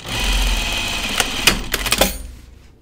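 A sewing machine stitches denim jeans in a fast, steady mechanical whir, then slows into a few separate clacking stitches before stopping, close up.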